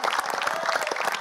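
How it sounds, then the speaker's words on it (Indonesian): Studio audience applauding on an Indonesian Family 100 game show, a steady dense wash of clapping that holds at an even level throughout without gaps. "Boleh dikasih aplaus dulu ya"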